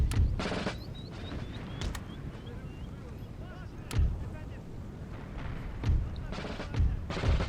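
Musket volleys in the Napoleon: Total War video game, sounding as several loud, sharp bursts spread through the clip over a rumbling battlefield bed, with someone talking beneath.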